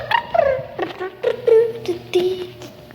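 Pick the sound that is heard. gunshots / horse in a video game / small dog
small dog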